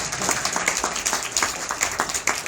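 An audience breaks into steady, fairly close clapping at a tech talk, dense and continuous for a couple of seconds with no voices over it.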